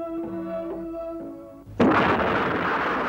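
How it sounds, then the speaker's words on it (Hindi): A heavy cannon blast bursts in with a sudden loud, broad roar that rumbles on for over a second, cutting off the steady tonal music playing before it, in a battle scene of a short film about the siege of Jhansi in 1858. "झांसी की प्रसिद्ध तोप घन गरज ने अंग्रेजों की सेना पर गोले बरसाने शुरू किए।"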